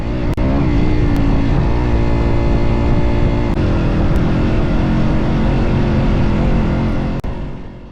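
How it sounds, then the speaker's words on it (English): Yamaha WR250 dirt bike engine droning loud and steady while riding a muddy rainforest track, a continuous close buzz with slight pitch shifts and a few sharp clicks. "I'm on a Yamaha WR250 sponsored by Pitmans"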